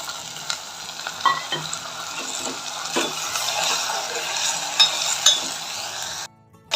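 Tomatoes and curry leaves frying in a pan for a Kongu-style tomato gravy, a steady close sizzle with intermittent stirring scrapes and a brief quiet gap near the end.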